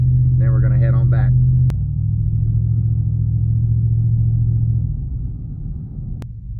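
A pickup truck drives along a road, its engine a steady low rumble throughout with cabin road noise, easing slightly near the end; a person talks briefly at the start over the hum.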